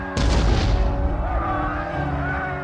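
A single heavy cannon blast booms close and loud in a Napoleonic battle scene, its deep rumble rolling out and fading over a sustained musical score.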